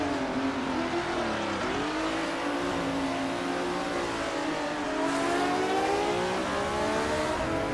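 A 1993 Toyota Carina eGTI racing car engine in a video game holds a steady, sustained drone, its pitch rising and dipping with gear changes and revving, loud and continuous with no voices.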